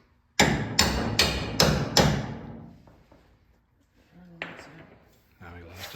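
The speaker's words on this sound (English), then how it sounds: "And he's hammering in the retaining bolt." Five loud metal-on-metal hammer blows in a steady rhythm, close by, drive a retaining bolt home on a Porsche 914 with a Honda K24 engine swap, then fade into a few quieter clanks and muffled talk.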